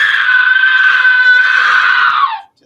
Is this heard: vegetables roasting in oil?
no